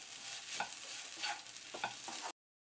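Grated coconut stirred into cooked raw banana in a pan for podimas gives soft repeated scraping and shuffling strokes over a faint low sizzle, close by, with no voices.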